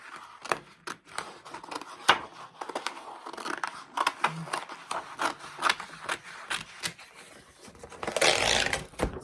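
Scissors cut paper tree shapes for a winter bird collage, a quick run of close, crisp snips and rustling paper, with a louder burst of crinkling near the end.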